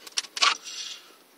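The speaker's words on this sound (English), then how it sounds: "Slot the keys in either side." Metal radio removal keys slotted into the stereo of a 2003 Renault Clio, giving a quick series of light metallic clicks and scrapes, close and brief, with no talking.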